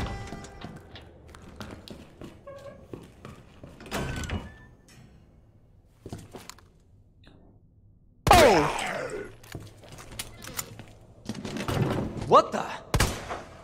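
Several sharp gunshots from Resident Evil 2 Remake, scattered bursts over the clip, mixed with mechanical clanks and background game noise inside the police station; a voice talks briefly in Portuguese.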